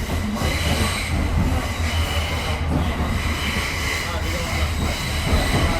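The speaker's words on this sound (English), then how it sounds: "I'm on the right train now." A train rumbles along steadily with a low, continuous roar and faint squealing of wheels, heard from inside the carriage.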